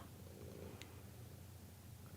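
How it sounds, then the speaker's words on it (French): A cat purrs softly and continuously close by, a quiet low rumbling drone in a calm indoor room with no talking. "Tu ronronnes de ton côté, tu fais un bruit de fond"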